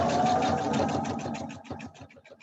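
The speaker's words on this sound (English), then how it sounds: "I am going to run it and sew to the end of the groove." A sewing machine stitches along a circular groove on a quilting project, running in a fast rhythmic chatter of needle strokes close by, then slowing toward a stop near the end.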